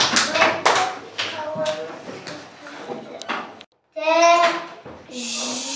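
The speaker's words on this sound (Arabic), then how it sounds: "تصفيق على كنزة" Young children in a kindergarten reading lesson clap for a classmate, a quick burst of sharp, uneven claps mixed with small voices and a teacher talking, then a brief pause before more talk.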